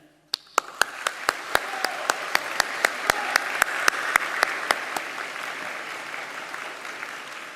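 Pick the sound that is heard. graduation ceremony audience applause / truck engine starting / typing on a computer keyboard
graduation ceremony audience applause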